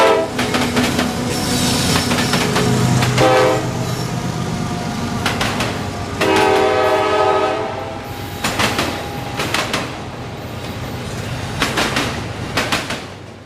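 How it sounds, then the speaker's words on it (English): A CSX freight train rolls south through a diamond interlocking in Plant City, Florida, its wheels banging in loud, repeated clattering bursts over the crossing, with a horn sounding and steady rumble throughout. "It's a sound unique to this one railroad apparatus called a diamond interlocking."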